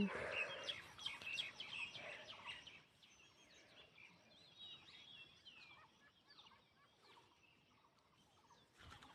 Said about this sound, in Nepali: चराहरू कति धेरै आइरहेछ क्या